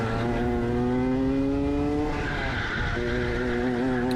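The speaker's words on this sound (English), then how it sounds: "we just see the kart and hear it twitching a little bit on the brakes" A Dmax racing go-kart brakes at Daytona Tamworth, its tyres squealing and skidding over a steady engine note, loud and close, with the pitch shifting partway through.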